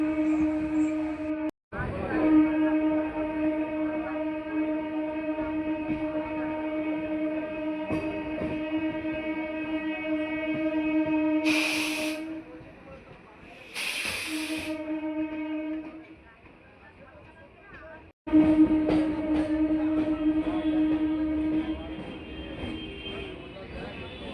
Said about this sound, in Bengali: আর বন্ধুরা, আমাদের ট্রেন এসে পৌঁছালো দমদম জংশন